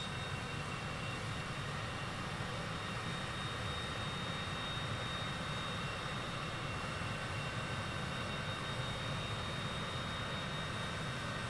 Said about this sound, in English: Beautiful airplane, the CJ-4 here.